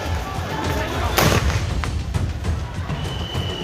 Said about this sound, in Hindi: हिंसक भीड़ को काबू करने के लिए एक के बाद एक पुलिस को लगातार आंसू गैस के गोले छोड़ने पड़े।